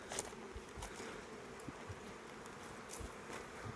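A honeybee swarm hanging among sun-scorched leaves hums in a steady, dense drone, moderately close, with a few louder individual bees passing by.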